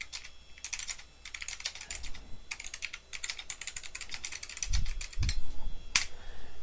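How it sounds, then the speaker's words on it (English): Fast bursts of clattering keystrokes on a computer keyboard, close and dry, coming in irregular runs with brief pauses and a couple of soft low thumps near the end; no one speaks. "as I type on the keyboard"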